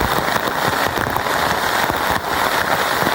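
Heavy rain pours down in a steady, dense roar that stays loud and unbroken throughout, with no voices.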